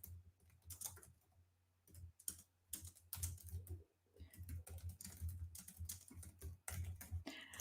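Fingers type quickly on a computer keyboard, the keys clicking in bursts with short pauses between them. The typing is faint and close, and there is no talk over it.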